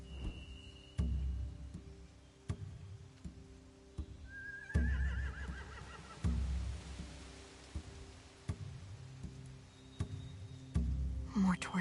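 A horse whinnies mid-way amid periodic dull thuds and a low hum, with faint patter of rain in the background, in The Walking Dead video game.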